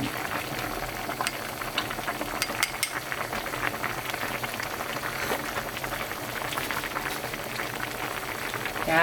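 A pot of spicy Korean rockfish stew boils steadily, its bubbling and simmering continuous and close throughout with no talk.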